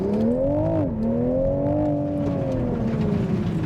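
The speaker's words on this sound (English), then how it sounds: "We're going to see a little bit off the line acceleration" A 2023 Toyota Supra Premium 3.0 in sport mode launches hard off the line, its engine a loud, continuous drone that climbs in pitch, dips briefly, then pulls steadily on. No one speaks.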